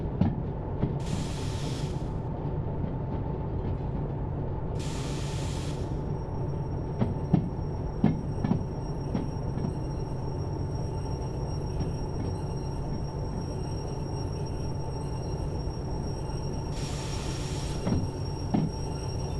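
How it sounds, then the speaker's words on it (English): A train in the game Derail Valley runs along rails with a continuous low rumble, steady clatter of wheels and occasional clanks, plus a few short bursts of hissing over the long, even stretch. "If we just stop the train"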